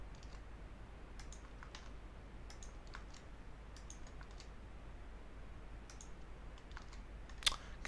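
Quiet, steady computer keyboard typing with scattered light key clicks across the span and one sharper click near the end, set against a low constant hum.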